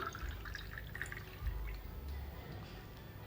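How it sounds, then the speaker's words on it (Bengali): Raw mango sherbet poured into a glass rimmed with lemon juice, salt and chilli powder, heard as soft, close liquid trickles and drips, quiet and brief. "এরপর এতে ঢেলে দেব শরবতটি"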